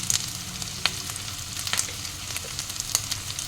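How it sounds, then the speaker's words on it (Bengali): Potatoes fry with spices in a pan, giving a steady, moderately loud sizzle with soft stirring clicks and scrapes scattered throughout. "আলুটা হালকা একটু ভাজা ভাজা করে নেব।"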